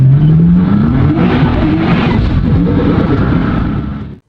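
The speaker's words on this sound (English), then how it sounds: "it launches incredibly hard from a standstill." A 2018 Nissan GTR, all-wheel drive, launches hard from a standstill with a loud, close engine roar that rises steadily in pitch through the run, then cuts off sharply.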